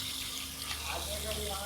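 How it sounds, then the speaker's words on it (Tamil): Tap water runs steadily into a sink for hand washing at a lunch outing with friends, a continuous close hiss with faint voices in the background. "hand wash"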